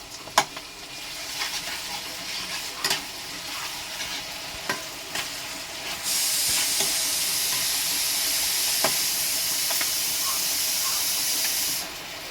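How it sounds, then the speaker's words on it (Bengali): Garlic paste hits hot oil in a pan with a sudden loud, steady sizzle that swells and holds for several seconds after a few earlier clinks and stirring taps, with no one speaking. "এবার আমি রসুন বাটাটা দিয়ে দিলাম।"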